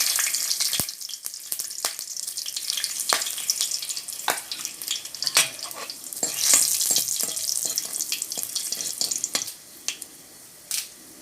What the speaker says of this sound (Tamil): இப்போ வந்து எண்ணெய் நல்லா சூடாகிடுச்சு இப்போ நம்ம வந்து சோம்பு போட்டுக்கலாம்